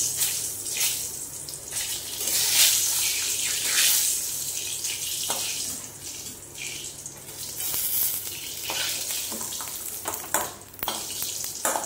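Nigella seeds and a chili sizzle in hot frying oil while spinach curry is being made. The sizzle is a steady, bright, close crackle that runs without a break, with soft stirring or scraping underneath and no voices.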